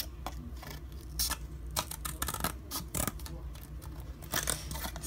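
Scissors snipping rapidly through paper or cardboard to cut out a pinhole eclipse viewing box, with close, crisp cuts in quick irregular bursts and a voice speaking softly underneath.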